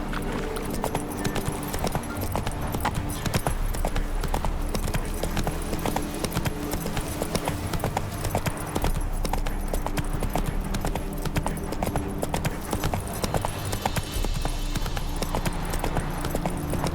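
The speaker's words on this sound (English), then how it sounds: "Run, Roach" Horse galloping in The Witcher 3 video game, a steady, continuous clip-clop of hooves at close range, running throughout under game music and ambience.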